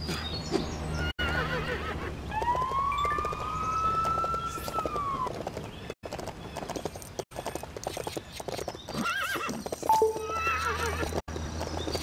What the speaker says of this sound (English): Look! Horses! Do we get to use them?